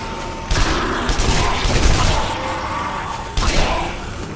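Gunshots in the video game Zombie Army Trilogy, two loud, booming rifle blasts about three seconds apart, each with a ringing tail and a kill-cam whoosh around the first.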